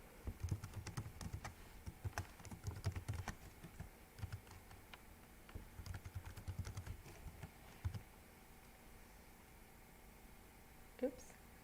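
Typing on a computer keyboard while coding a Frogger game: bursts of quick, soft key clicks come in uneven clusters with pauses between, faint and close, with a brief other noise near the end.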